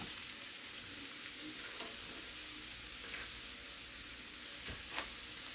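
Mushrooms frying in a heated pan, a soft continuous sizzle with scattered crackles and a few brief stirring scrapes, quiet and steady throughout, with no talking.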